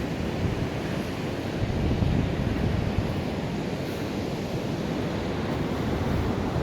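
Ocean waves on a long, huge beach at Agadir, Morocco, heard as a continuous broad roar of surf mixed with wind buffeting the microphone, steady and fairly loud throughout.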